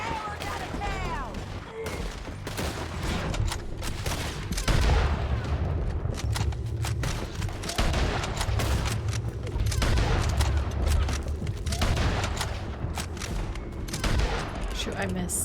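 Gunfire in the video game Red Dead Redemption 2 sounds as dense, rapid shots layered over one another in a continuous firefight, with voices speaking now and then amid the shooting.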